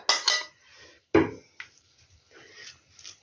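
Chopped onion and garlic dropped into a deep bowl, giving a couple of sharp clattering knocks and lighter scraping rattles, close by with no talking.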